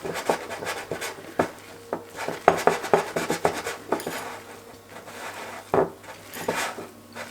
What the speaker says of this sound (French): On va ajouter une partie des blancs et on va bien mélanger pour détendre un petit peu la préparation